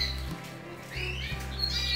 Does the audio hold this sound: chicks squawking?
yes